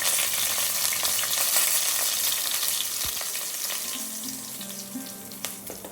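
Hot oil sizzles steadily as a South Indian tempering of mustard seeds, dried red chilli pieces, curry leaves and asafoetida fries in a pan, a continuous close crackle with a few faint clinks and scrapes, no voices.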